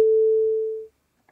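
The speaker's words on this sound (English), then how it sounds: "we get an enveloped sine wave." Enveloped sine wave generated in Max software: a single pure, steady mid tone that starts at once and fades smoothly over nearly a second to silence, clean and loud with no other sound.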